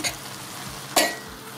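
Spinach and bulgur being stirred in a pot on the stove, a soft scraping with one sharper clink of the spoon against the pot, with a faint sizzle underneath.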